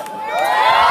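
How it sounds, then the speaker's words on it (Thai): A crowd of adults and children lets out a loud jeering shout to drive off the Burmese in a Bang Rachan battle reenactment at the Ban Rachan retro market, Sing Buri. The brief collective cry swells and rises in pitch. "ขอเสียงโห่ไล่พม่าเลยครับ"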